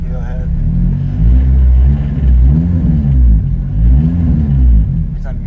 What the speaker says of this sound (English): Every time you rev it, it's data logging.